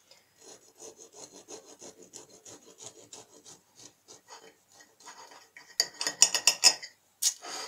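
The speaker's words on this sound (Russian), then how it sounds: "Ну, у меня горячая, и я режу пилой." A serrated bread knife saws through a hot cottage cheese loaf cake with steady rasping strokes up close, growing louder and sharper near the end with a few crisp scrapes.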